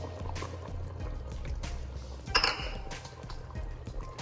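Okra is poured into a pot of keto curried seafood soup, making a faint soft splash and brief clatter with a louder clink midway, with no talk.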